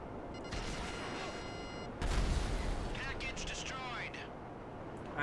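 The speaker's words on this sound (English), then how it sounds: "I saw the explosion. I heard the explosion." A sudden loud booming explosion in Grand Theft Auto V cuts in over a steady rumbling background, followed by crackling debris and whooshing effects that fade out.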